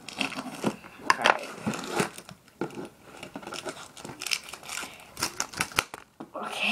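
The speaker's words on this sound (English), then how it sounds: "Cutting tape." A blade slices packing tape on a cardboard shipping box during an unboxing, producing crackly tearing and crinkling bursts in uneven spurts. A voice talks intermittently over it.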